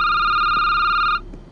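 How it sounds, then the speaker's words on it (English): A telephone rings once in a security booth in a horror video game, a steady bright electronic trill lasting about a second before cutting off, with a quiet hum remaining afterward. "Okay, that was the phone."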